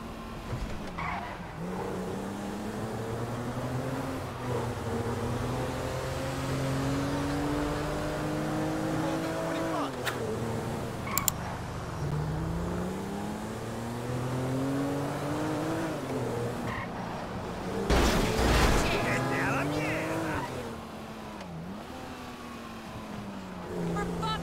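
A car drives through a stadium in Grand Theft Auto V, with a continuous revving engine whose pitch rises and falls, tires squealing on turns and a brief crash near the end, heard steadily throughout.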